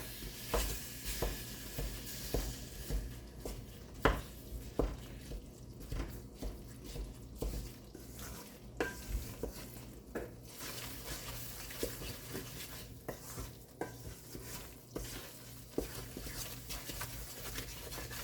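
Desi jaggery being stirred into roasted wheat flour for sukhdi, a steady scraping stir with a soft sizzle running throughout, close and fairly quiet, with no talking.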